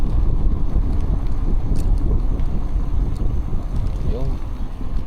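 Wind noise buffets the microphone in strong low rumbling gusts during a ride on an Aipas F3 e-bike, loud and continuous, with faint voices underneath.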